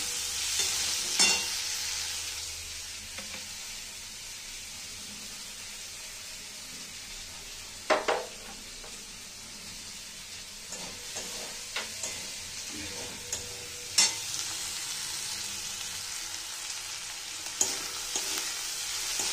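Chopped onion fries in oil, a soft continuous sizzle and hiss under several distinct stirring scrapes and clinks of a spatula spread across the stretch, close and moderately quiet.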